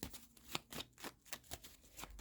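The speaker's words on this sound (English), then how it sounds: "give me a few seconds for me to shuffle and pull the cards" Rapid riffling and slapping of tarot cards being shuffled, a series of crisp bursts in an uneven rhythm, close and fairly quiet.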